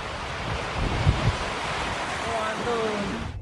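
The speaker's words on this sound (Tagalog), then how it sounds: "Hinampas din ng malakas na hangin ang pagudpod." Strong typhoon wind roars steadily outdoors in Ilocos Norte during Typhoon Marce, a broad rushing gust buffeting the microphone, with a faint voice briefly audible underneath.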